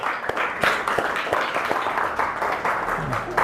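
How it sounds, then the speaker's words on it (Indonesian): Audience applause for a group presentation in a classroom session, moderate scattered clapping with a few sharper claps standing out, steady for a few seconds. "Untuk itu kita beri aplaus kepada kelompok 1."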